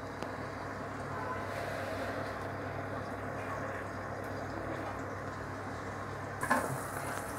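Fennel seeds and garlic frying in hot oil in a pan while cooking Kadamba squid fry, a steady close sizzle and crackle running throughout, with a brief louder clatter near the end.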